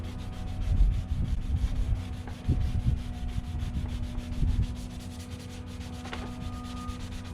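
Hand sanding of bed liner paint on a 2015 Jeep Wrangler JKU grille: soft, fairly quiet scraping strokes in an irregular rhythm, made alone without talk.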